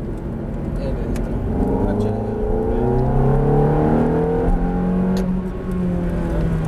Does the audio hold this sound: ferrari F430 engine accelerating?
yes